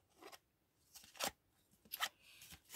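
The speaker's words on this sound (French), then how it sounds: "J'ai pris le ciseau pour la couture." Sewing scissors for fabric being handled, giving several short crisp snips and clicks spaced irregularly, fairly close and quiet with no talking.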